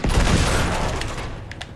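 A grenade blast and a burst of gunfire in the video game Uncharted 2 roar as loud, dense, sustained rattling booms that fade slightly toward the end, with no voices.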